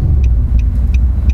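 A car rolls slowly into a transport company's lot, its low engine rumble steady and close throughout, with faint high ticks repeating at regular intervals above it.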